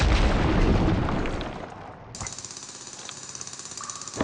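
Mining vehicle drilling through a rock wall in the PC game Lego Rock Raiders, a dense loud grinding roar for about two seconds, then a lighter rapid rhythmic chatter with a high whine.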